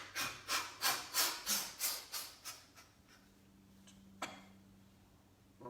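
Breathing exercise with a rapid run of about ten strong, evenly paced breaths pushed out through the airway. A long quiet pause with a faint low hum and one soft click follows.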